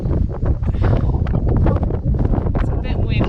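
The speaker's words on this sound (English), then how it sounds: "It's a bit windy." Strong wind buffets the microphone on the bare summit of Mount Madison, a loud continuous roar and rumble with gusty surges, while someone talks over it.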